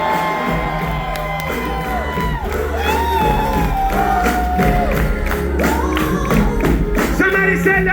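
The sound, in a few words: crowd cheering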